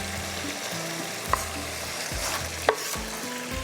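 Tomatoes going into a pan of chicken cooking in butter and oil for a creamy basil chicken, producing a close, steady sizzle with a couple of sharp clinks of utensils on the pan and no talking.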